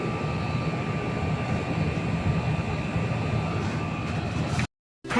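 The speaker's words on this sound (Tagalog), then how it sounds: "So papakita ko sa inyo na umaandar na yung compressor." An air conditioner compressor runs with a loud, steady mechanical drone and a faint whine, holding constant before cutting off abruptly near the end, then briefly resuming.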